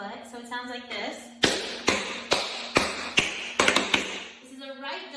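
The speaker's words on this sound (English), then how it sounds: "This is a right double pull back because we prepared for the ball change on the right." Sharp tap shoe strikes on a hard floor beat out a right-foot double pull back, a quick run of about eight crisp taps, with a voice talking at the start and end.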